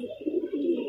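A soft, low pigeon coo rolls briefly, close by and alone.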